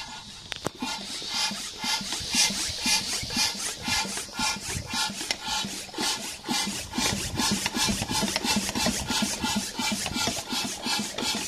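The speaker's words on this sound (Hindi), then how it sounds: "हवा देखिए दोस्तों कैसे जा रही है इस बलून में।" Rhythmic whooshing and rasping strokes of air being pumped into a very large house-sized balloon, repeating steadily and fairly close, with no talk over it.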